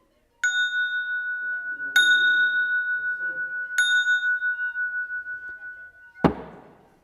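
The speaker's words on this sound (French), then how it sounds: "Voici cloche numéro 1 et cloche numéro 2, puisqu'avec un seul extincteur, on va pouvoir fabriquer deux cloches" Homemade bells cut from an expired fire extinguisher ring out three times with clear, sustained metallic tones that decay slowly, followed by a sharp louder clang near the end.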